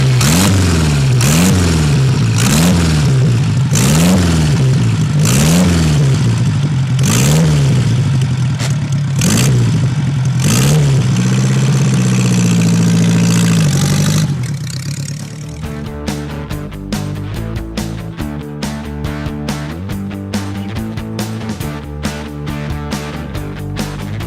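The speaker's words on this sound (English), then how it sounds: "every time I get this bike out, I want to go 80 miles an hour, and it'll do it too" A pair of 70-year-old vintage Ace motorcycles: a throbbing engine surges and revs in repeated waves for about fifteen seconds, then gives way to rhythmic music with the engine fading under it.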